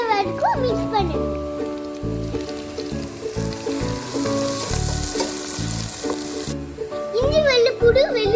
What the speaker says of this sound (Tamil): வெங்காயம், பிரவுன் கலர் வர வரைக்கும் மிக்ஸ் பண்ணனும்